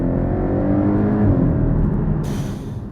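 A loud sports car engine revs hard and steady, a deep throaty roar close by, with no talking.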